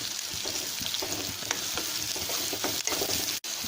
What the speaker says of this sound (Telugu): ఉల్లిపాయ ముక్కలు కొద్దిగా వేగాలండి.